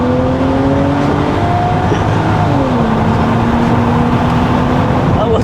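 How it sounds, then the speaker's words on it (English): A straight-piped V12 limousine revs hard through a juddery burnout, its loud engine note climbing and falling in sustained, rasping pitch sweeps up close. "That wasn't exactly the cleanest of burnouts."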